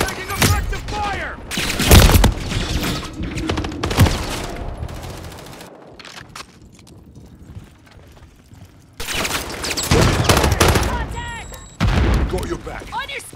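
Automatic gunfire and bursts crackle through a Call of Duty Modern Warfare III firefight, loud close volleys with explosions, a quieter lull in the middle, then heavy firing resumes, with radio-style voices talking over the action.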